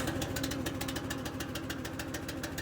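A Wolfe Ridge 28C compact commercial log splitter's gas engine runs at half throttle with choke on, a steady knocking putter heard fairly quietly over almost three seconds, no talk.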